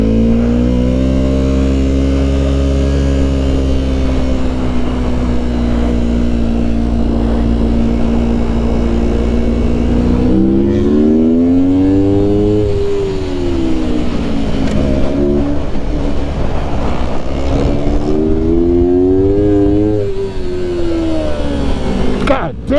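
A Yamaha R3 sport motorcycle laps a kart track on a track day, its engine droning steadily at high revs, then swinging through repeated rises and falls in pitch as it accelerates and slows through corners, loud and continuous throughout.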